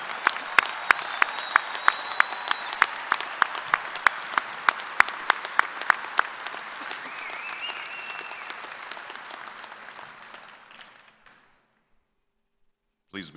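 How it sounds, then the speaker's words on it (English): A commencement crowd of agriculture graduates and families applauds with sustained, crisp clapping that thins out and fades to silence near the end. "Please join me in a round of applause."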